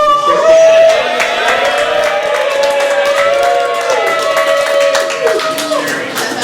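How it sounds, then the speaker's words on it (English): A startup-night audience cheers and claps for JamSnap: a loud, continuous crowd roar with shouting voices and scattered hand claps that holds steady for several seconds. "please cheer for JamSnap"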